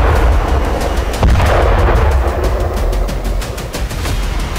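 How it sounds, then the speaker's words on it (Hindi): Heavy bombardment of buildings in southern Lebanon, with continuous deep rumbling and booming from explosions and a sharper blast about a second in, loud and sustained throughout. "जहां आईडीएफ ने बारूद बरसाकर 8 से ज्यादा इमारतें जमींदोज कर दी"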